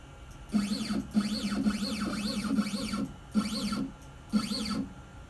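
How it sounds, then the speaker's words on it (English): A hobby CNC router's stepper motors drive the machine into position before a carving job, giving a tonal whine that sweeps up and down in repeated moves with brief pauses between them, close and steady. "Now it's time to go ahead and move the machine over so that we can get this ready to start carving."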